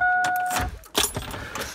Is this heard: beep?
no